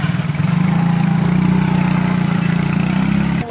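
Motorcycle engine running steadily at close range during a quick test, a low, even idle throb with a slight pulsing rhythm that holds for a few seconds before cutting off abruptly.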